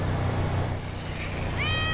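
A short cat meow from a GTA V game character, rising and sustained at the end, heard over a dense, steady bed of game ambience and engine drone.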